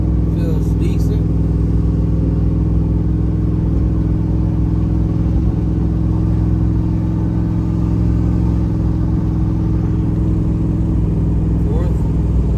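A 2wd-swapped Yukon Denali engine rumbles heavily and steadily from inside the cab while pulling through the gears, a constant low drone with no distinct shift breaks audible.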